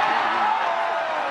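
Crowd at the 2022 U.S. Women's Open golf tournament cheering and whooping after a shot, a steady wash of voices lasting throughout.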